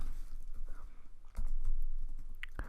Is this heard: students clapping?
no